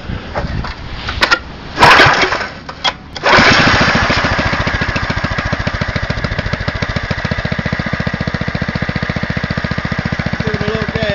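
A small gasoline engine on a homemade 12V generator built around an alternator coughs through a couple of pull attempts, then catches and settles into a loud, fast, rattling idle that chugs steadily to the end.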